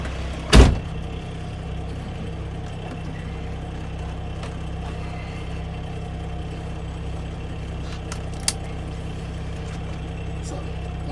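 A truck cab door slams shut once, loud and close, as the driver climbs in, followed by a steady low engine idle and a faint click later on.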